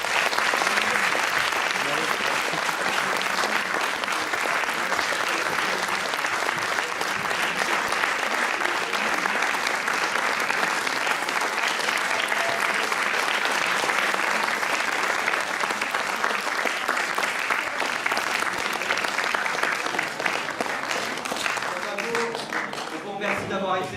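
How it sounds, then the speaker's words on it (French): Sustained theatre audience applause from an amateur theatre group's show, dense steady clapping that fills the room for the whole stretch and thins slightly near the end. "je peux l'applaudir"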